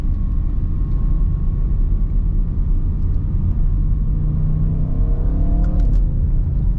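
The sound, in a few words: 2021 Audi RS6 Avant accelerating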